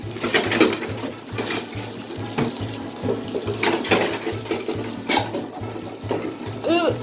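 Hands splash warm water in a tub to work up suds, making repeated wet sloshing bursts at close range in a home setting.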